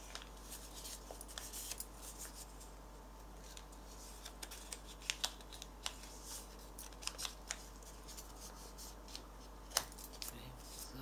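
Scissors cut through folded material for a handmade rose, producing a series of small, crisp snips and clicks close by at irregular intervals over a low, steady hum.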